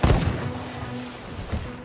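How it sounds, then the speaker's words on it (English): A ship's cannon fires at a shark in the pirate game Sea of Thieves, a loud booming blast at the start with a second, weaker thump shortly after, then rumbling decay. "You can shoot it with the cannon"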